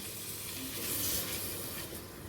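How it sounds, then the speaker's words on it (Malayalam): Chopped tomatoes sizzling as they are sautéed in a pan for chicken biryani, a steady close hiss that rises briefly mid-way and carries on alone without talk. "ഇതിലേക്ക് നമ്മൾ അരിഞ്ഞു വെച്ചിരുന്ന ടൊമാറ്റോയും കൂടി ഇട്ട് കൊടുക്കാം. വഴറ്റി കൊടുക്കാം."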